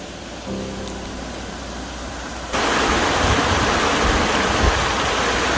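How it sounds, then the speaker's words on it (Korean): A strong stream of water pours over an embankment on a long creek in Songdang-ri, Gujwa-eup, Jeju, a steady loud rushing roar that swells abruptly partway through. "세찬 물줄기가 뚝을 넘고 흐르는"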